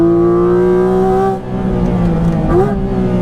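Porsche 981 Cayman GT4 flat-six engine holding a steady, loud harmonic drone, dipping briefly then climbing again in pitch as revs rise, with no talking.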